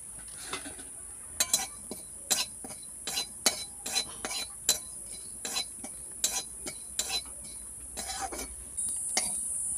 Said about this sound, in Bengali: ফোড়নটাকে ভাজা করে নেব।